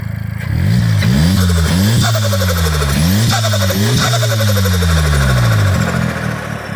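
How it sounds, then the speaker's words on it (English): A 2015 VW Golf's engine revs repeatedly, each rise and drop in pitch followed by a turbo flutter, loud and close without any talking. "I'll let you guys hear the turbo flutter right now"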